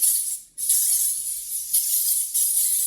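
Bursts of dry shampoo aerosol spray hiss close by, a long continuous spray broken by a brief pause, then several pulsed bursts in quick succession.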